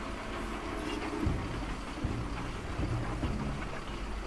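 Battle train from the strategy game Iron Harvest rumbling along the rails, a dense steady mechanical rumble with periodic clanks and clacks, mixed with game ambience and no speech.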